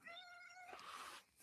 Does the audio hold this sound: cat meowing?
yes